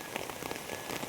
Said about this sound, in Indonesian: Tapi di hujan seperti ini airnya mengalir ya, tuh deras ya.